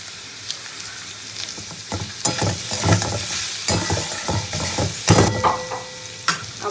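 Vegetables fry and get stirred in a pan, a steady sizzle broken by repeated scraping and clattering strokes of the spoon, close and fairly loud with no talking.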